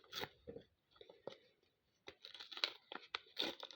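A small plastic package of phone cases is torn and crinkled open close by, in quiet, irregular bursts of rustling and ripping with a brief pause in the middle.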